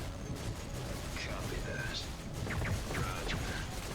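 Sniper fire in the StarCraft II co-op mode, several sharp, quick cracks of gunfire and mechanical clanks scattered through a busy battle backdrop as people talk.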